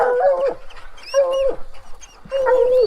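A dog whimpers in three drawn-out, high, tonal whines separated by short pauses, loud and close with no talking.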